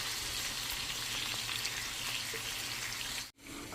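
Onion with ginger and garlic paste frying in a pan for a chicken and cauliflower dish, a steady dense sizzle throughout that cuts off abruptly near the end before resuming faintly.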